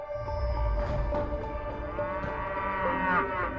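About a dozen cows in a grassy field, with a river in the background, give long, loud moos that overlap one another, close by and with no talking.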